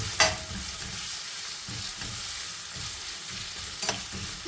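Crushed ginger and garlic sizzle steadily in a pan for a pot roast, with a spoon stirring and scraping through the frying. A couple of sharp clinks stand out against the soft continuous hiss.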